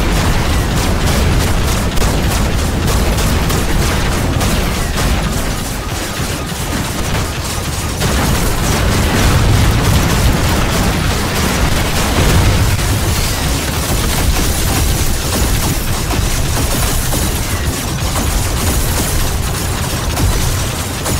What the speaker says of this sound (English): I haven't stopped firing for quite a while